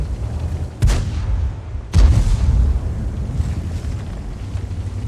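Tank cannon shots in World of Tanks, two heavy booming blasts about a second apart over a steady low rumble of engines and wind, no voices.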